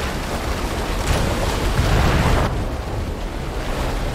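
Ocean waves and open water in the video game BioShock Remastered roll as a dense, steady wash of surf and wind noise, loud and continuous throughout with a slight swell partway through.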